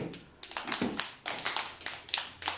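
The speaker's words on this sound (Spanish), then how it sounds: "un aplauso para Arlet." Children in a classroom clap in a short ragged burst, quiet and close, with uneven bursts of hand claps repeating through the moment.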